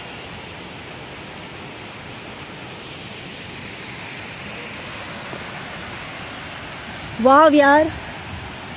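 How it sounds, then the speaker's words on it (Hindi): A waterfall near Pune roars as a steady, even wash of rushing water throughout, with a woman's brief exclamation breaking in near the end. "वाटरफॉल देखिए कितना अच्छा लग रहा है"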